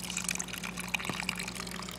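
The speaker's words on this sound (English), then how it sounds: "there's the waterfall" Small waterfall in a dart frog vivarium trickling and dripping, soft close liquid patter with faint splashes over a low steady hum.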